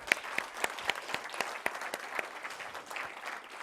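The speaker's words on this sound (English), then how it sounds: "Let's have a big round of applause for our lovely audience." Sparse applause from a modest audience at an architecture conference session, individual sharp claps clearly separated in an uneven rhythm, fairly quiet and thinning toward the end.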